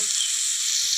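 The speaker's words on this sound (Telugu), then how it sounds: "నేను పోపు పెడుతున్నాను" Hot oil tempering spices for a ridge gourd and mint chutney hisses in a loud, steady, close-up sizzle that lasts the whole moment.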